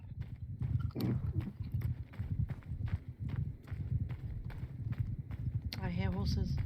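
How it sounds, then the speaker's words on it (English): Horses gallop in Mount & Blade II Bannerlord, a steady drumming of hooves running close and loud throughout, with a voice talking over it near the end. "I hear horses."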